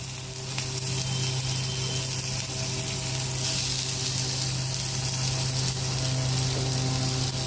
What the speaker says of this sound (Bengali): আর এবার আমি এই তেলে পেঁয়াজ ফোড়ন দেবো।